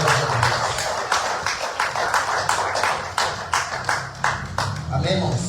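A church congregation applauds together, a steady wash of many hands clapping with sharp individual claps poking through, fairly close and filling the room, with voices mixed in.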